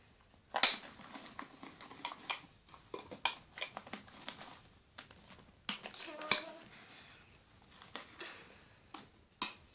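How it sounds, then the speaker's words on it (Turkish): Foamy soap slime stirred with borax water in a bowl, heard as scattered clinks and scrapes of a utensil against the bowl, close and intermittent, with quiet pauses between strokes. "Tekrardan karıştırıyorum tabii ki de"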